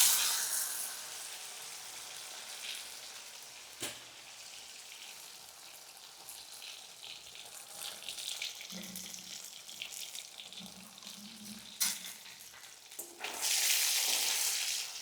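Paneer and winter vegetables frying in a pan: a steady, fairly quiet hiss and sizzle that swells louder at the start and again at the end, with a few sharp clicks and clatters.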